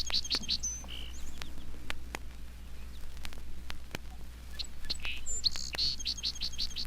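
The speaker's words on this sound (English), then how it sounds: "Can't fail to recognize him, the modest little song sparrow." A song sparrow sings bright, rapid trilling phrases at the start and again near the end, over a low steady hum and scattered clicks.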